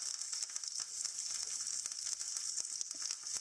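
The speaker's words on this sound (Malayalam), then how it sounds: "കടുക് പൊട്ടി തുടങ്ങുമ്പോൾ ഇതിലേക്ക് 2 വറ്റൽമുളകും 1 തണ്ട് കറിവേപ്പിലയും കൂടെ ചേർത്തിട്ട് നന്നായിട്ടൊന്ന്" Mustard seeds, two dried red chillies and a sprig of curry leaves fry in hot oil for tempering a tomato chutney, giving a steady bright sizzle scattered with small pops and crackles, fairly quiet and without any voice.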